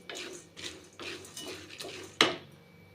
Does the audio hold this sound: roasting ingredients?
yes